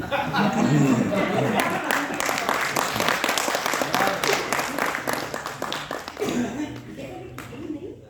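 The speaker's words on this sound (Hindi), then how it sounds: "एक राउंड ऑफ अप्लॉज और बनता है।" Audience at a national conference in a hall at the Vishwa Yuva Kendra applauding, a dense, loud burst of clapping from many hands that gradually thins out and fades toward the end, with some voices underneath.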